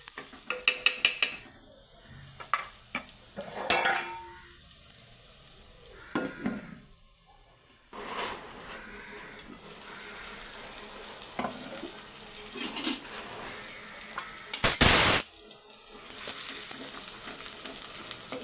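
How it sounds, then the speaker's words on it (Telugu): Onions frying in oil in a pan, a steady soft sizzle broken by stirring scrapes and clinks of utensil against the pan, with one sharp loud clatter near the end. "ఉల్లిపాయలు అయితే నూనెలో మొగ్గుతున్నాయండి"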